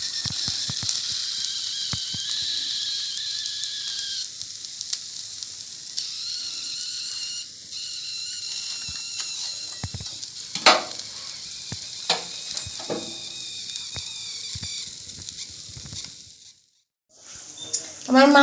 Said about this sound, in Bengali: আমি চেষ্টা করেছি একটুখানি কম তেলে ভাজতে